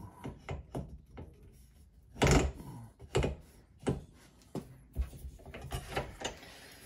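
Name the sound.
turning the handle of a jenny sheet metal tool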